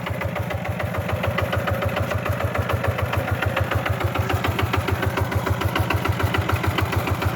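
A small power tiller engine runs close by at a steady idle, its rapid, even thumping pulses continuing throughout with no one talking.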